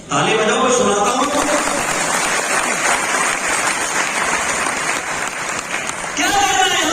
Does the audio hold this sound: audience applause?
yes